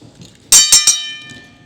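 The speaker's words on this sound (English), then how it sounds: "Ring the bell." A wrestling ring bell is struck three times in quick succession, each loud clang leaving a bright, ringing tone that slowly fades.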